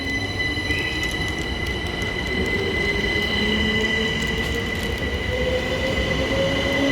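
Train passing close through Haywards Heath station, a steady rumbling roll with high metallic wheel squeal and tonal whine sustained for the whole stretch.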